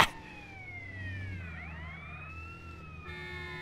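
A police siren in the GTA video game, its tone sweeping up and down continuously and fairly loud over a low engine rumble, with no talking.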